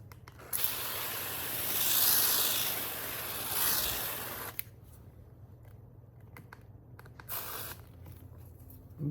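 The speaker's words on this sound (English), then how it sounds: "So we got to spray it." Water is sprayed in bursts onto wool felt being re-felted as an embellishment layer, a close hissing spray lasting several seconds, then a quieter pause and a short extra spritz.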